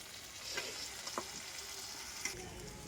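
Mutton pieces being stirred into frying masala for a home-style mutton curry, giving a steady low sizzle with a few scraping spoon strokes, fairly quiet and close.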